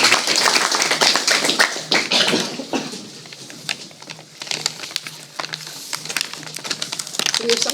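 An audience applauds after a lecture at a forum, starting as a dense burst of clapping and thinning into scattered, uneven claps near the end.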